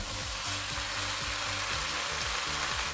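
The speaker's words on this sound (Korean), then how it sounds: "대파를 넣고 중간불에서 조금 더 볶아주세요." Korean fish cakes stir-fry with shishito and red peppers and green onion over medium heat, giving a steady close sizzle with a faint rhythmic clatter of stirring underneath.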